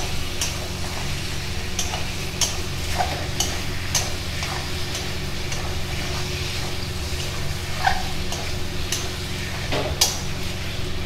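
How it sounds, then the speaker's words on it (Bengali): Chicken pieces are stirred in a cooking pan during a kosha-style curry, with soft scraping and tapping strokes repeating irregularly over a steady low frying hiss, close by and with no talk. "মাংসটা একটু নাড়িয়ে নেবো।"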